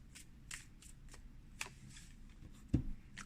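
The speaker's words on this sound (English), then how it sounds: "let's pull a goddess card from the Isis deck" Deck of Isis goddess oracle cards being shuffled by hand, a quiet series of short papery riffles and flicks spaced unevenly, ending with a sharper tap, close and soft with no talking.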